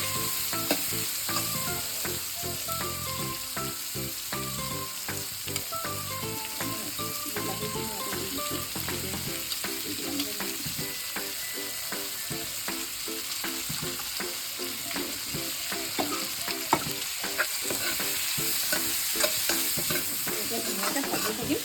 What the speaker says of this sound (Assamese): ধুনীয়াকৈ ভাজি থাকিম।